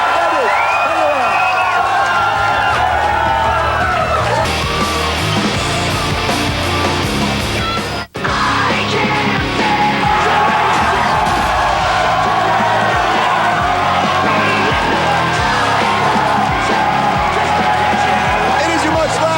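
A large crowd cheers, whoops and claps at a concert after-party, a loud sustained roar that carries on for the whole stretch, with a brief drop partway through, with voices shouting over it.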